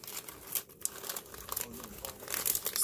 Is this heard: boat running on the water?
no